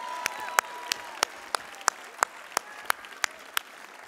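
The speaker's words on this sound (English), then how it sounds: "Give yourselves a hand of applause." Audience applause at a university commencement ceremony, heard as steady, evenly spaced sharp claps about three per second, like a crowd clapping in unison, fairly clear over a low background.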